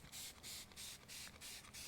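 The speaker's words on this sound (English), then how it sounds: "I'm gonna go ahead and spray it." Rust remover sprayed onto the wheels of a Honda CL175 motorcycle, about five short hissing bursts in a quick, even rhythm, close but fairly quiet.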